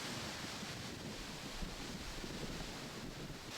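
A waterfall in Armenia makes a soft, even rush of water that carries on steadily throughout, fairly faint, with no voices.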